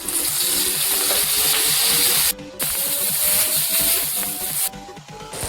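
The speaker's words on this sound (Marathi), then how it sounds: "मिरच्या पण भाजून घेते मी। थोडंसं तेल," Green chillies roast in a little oil in a home kitchen pan, giving a steady, close sizzling hiss that drops out briefly twice before resuming.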